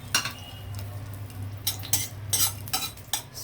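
Garlic dropped into hot oil in a pan for a traditional dal with sesame oil cake, with a steady low hum beneath and several sharp metallic clinks and scrapes of a spoon against the pan.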